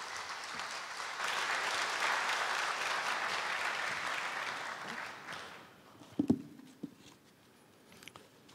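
Sustained audience applause at a Korea University anniversary ceremony greeting an award winner, steady and dense for about five seconds before thinning out to a few scattered claps and shuffling sounds.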